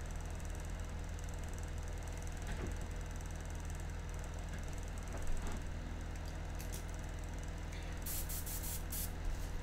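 An airbrush sprays India ink for a portrait painting, giving a steady, continuous airy hiss that runs unbroken from start to finish at an even level.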